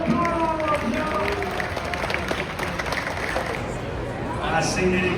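A crowd at VidCon, a creator convention, claps in steady, dense applause for several seconds, with voices and cheering mixed in throughout.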